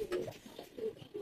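A few soft, low coos from Teddy pigeons in a big loft come in short pulsing bursts, quiet and near, with no voices over them.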